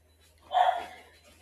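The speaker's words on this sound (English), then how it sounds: "Sorry about all the barking. I have 3 dogs in my house." One dog in a house with three dogs lets out a single short bark, moderately loud and slightly distant, against an otherwise quiet room with a faint low hum.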